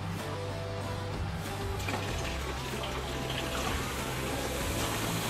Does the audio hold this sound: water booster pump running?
yes